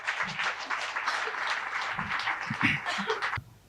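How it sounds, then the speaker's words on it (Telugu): Audience clapping at a spiritual society event, a few seconds of steady applause from a small crowd that cuts off abruptly near the end, with faint voices mixed in. "ఒకసారి మీనా మేడం గట్టిగా క్లాప్ చేద్దామండి"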